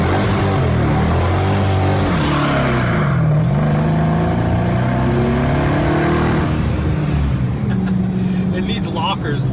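A modified police car's engine revs hard and loud, the pitch climbing and falling through several throttle pulls, with a voice speaking over the roar.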